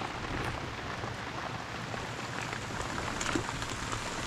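Steady rain pours down outdoors during a rescue and release of tikling birds, a dense, even hiss of drops hitting surfaces throughout, fairly quiet and unbroken.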